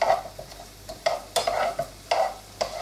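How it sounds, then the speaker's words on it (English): Chopped onions sizzle in a pan for a chicken and spinach curry, with a spoon scraping and stirring in uneven strokes over a low, steady frying hiss, close by. "you're going to add those into the pan. And then we're just going to stir those for 3 or 4 minutes."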